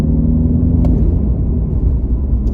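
A 2022 Mini Cooper Countryman S All4 being driven, heard from inside the cabin as a steady, fairly loud low road and engine rumble.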